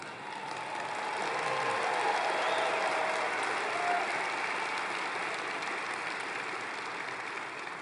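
Sustained applause from an audience at a speech by Senator Carl Levin, a broad steady wash of clapping that swells slightly and then holds evenly, without any voices.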